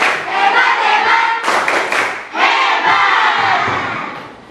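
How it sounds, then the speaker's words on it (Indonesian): A school class claps and chants a rhythmic cheer in unison: loud, close group voices and hand claps in two bursts separated by a brief dip, then trailing off. "Hebat, tepuk hebat."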